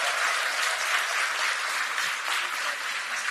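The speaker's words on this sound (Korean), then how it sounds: "여러분 큰 응원의 박수 한 번 더 부탁드립니다." Audience applause at a political party election campaign launch event, dense continuous clapping from a large crowd, steady and fairly loud throughout with no voices.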